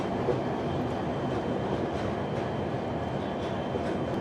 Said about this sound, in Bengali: এই যে এখন ট্রেন ঢুকছে আলিপুরদুয়ার জংশনে